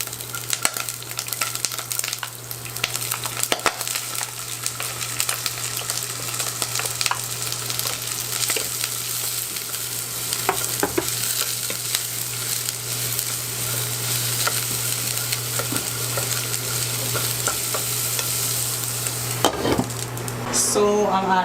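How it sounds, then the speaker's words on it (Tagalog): Garlic frying in canola oil in a pan, a steady loud sizzle with occasional stirring scrapes and utensil clinks near the end, close and continuous with no talking. "Salang na natin ang ating bawang."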